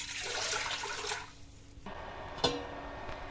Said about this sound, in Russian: Добавляем 2 литра воды.